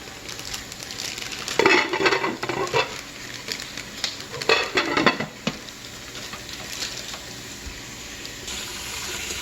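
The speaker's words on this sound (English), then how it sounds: "Almost ready. Just keep stirring." A spoon scrapes and swirls through vanilla peach syrup in a pot on the stove, coming in two louder bursts of stirring and clinking amid a soft steady background hiss.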